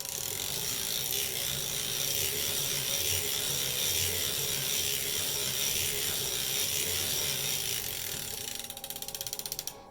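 A circular sock knitting machine cranks through rows with a continuous, even mechanical ratcheting whir, close and steady, ending in a faster clicking rattle just before it stops.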